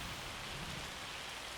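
Hail falling on cotton fields in the Farming Simulator 25 video game, a steady dense hiss of countless small impacts that stays even and unbroken throughout, with no voices.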